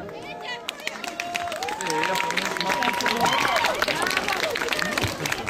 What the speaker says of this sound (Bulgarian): Аплодисменти за Елизабет.